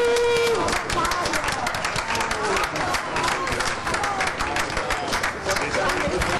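Dense, continuous clapping and crowd noise fill a night-long victory party for the new mayor of Treviso, with a voice talking over the steady applause throughout.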